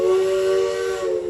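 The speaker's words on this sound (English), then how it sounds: "Nice shot there of the Cedar Point Lake Erie Railroad as it passes by Millennium Force here." Cedar Point's Lake Erie Railroad train whistle at the amusement park sounds as one steady, loud steam-whistle blast with a hissy edge, held for the whole moment without voices.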